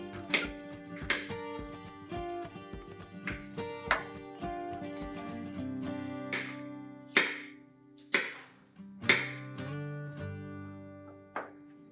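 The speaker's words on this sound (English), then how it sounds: "I'll begin prepping my jalapenos by slicing them up" A knife slices through jalapenos in a dozen or so distinct, close, crisp chops at an uneven pace, with the blade ringing briefly after each cut and no talking.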